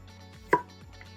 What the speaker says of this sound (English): once you're done cutting up the jalapeno